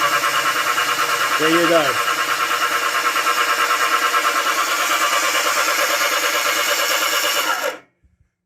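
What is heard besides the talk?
Kawasaki Z1 engine turned over on starter motor, plugs out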